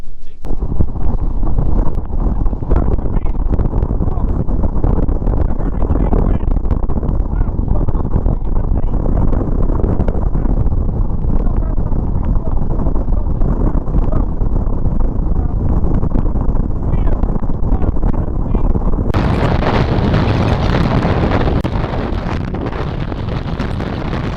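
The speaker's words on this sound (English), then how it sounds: "Unbelievably windy, absolutely crazy." Strong, gusty wind roars and buffets the microphone continuously, loud and unbroken throughout, with no voices.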